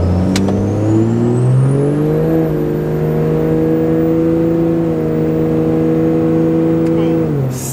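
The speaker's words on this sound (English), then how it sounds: "give it a little bit of boost, throttle it up to about 1600 and then let off" A 600+ horsepower Cummins diesel truck launching from a standstill for a 0-60 run at full throttle, its engine note loud and close, climbing steadily in pitch before settling into a sustained roar and cutting off.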